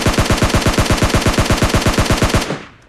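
Rapid automatic gunfire from a video game weapon, a loud sustained burst of evenly spaced shots for about two and a half seconds before cutting off into a brief fading tail, with no talk.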